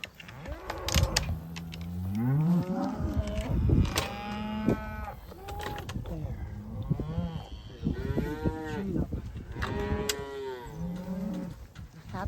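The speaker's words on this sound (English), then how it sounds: "Happy cows." Cattle mooing repeatedly outdoors, several long, rising and falling bellows from more than one animal, some close and loud, others overlapping farther off, with short gaps between calls.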